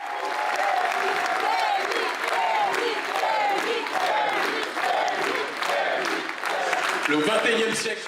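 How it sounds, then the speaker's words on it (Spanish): An enthusiastic crowd applauds a man presented as a new thinker of African unity and independence, dense sustained clapping with cheering voices running steadily throughout, loud and near. "Una multitud entusiasta aplaude al hombre que se presentaba como el nuevo pensador de la unidad y la independencia africanas"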